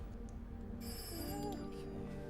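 A telephone rings with a bright, tonal electronic chirp that starts partway through and repeats in short bursts, moderately loud over a low background hum.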